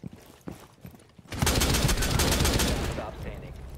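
Gunfire in Rainbow Six Siege: after a second of quieter scattered shots and movement, a loud, continuous burst of rapid automatic fire erupts close by and keeps going to the end.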